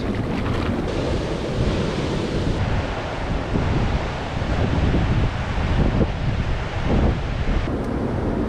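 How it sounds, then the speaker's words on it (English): A strong river current rushes steadily on the Bird River in Woodland Caribou Park, a loud, continuous, close wash with wind buffeting the microphone and no talk. "Whoa, that's a lot of current."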